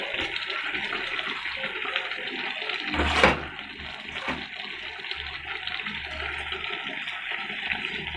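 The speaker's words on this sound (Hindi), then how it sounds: "अब इसमें मैं ऐड करने लगी हूँ इमली का पानी।" Tamarind water is poured into a pot of peas pulao as it cooks, giving a continuous splashing, gurgling pour with one brief louder splash partway through; no one speaks.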